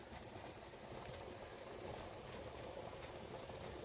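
A pressure canner loaded with dry kidney beans vents a steady, continuous hiss of steam, unbroken and fairly loud throughout, with no talking.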